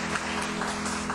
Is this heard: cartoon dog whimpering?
no